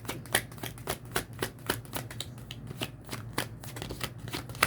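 Truth Oracle cards are shuffled close by in a quick, steady run of crisp flicks and riffles, with no talking over it.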